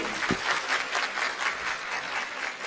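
An audience at a motivational talk applauds, a dense steady clapping from many hands filling the whole moment without a pause.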